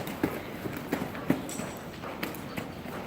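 Horse hooves clip-clop in an uneven, steady rhythm during a big group ride. The footfalls sound moderately close over a low background rumble.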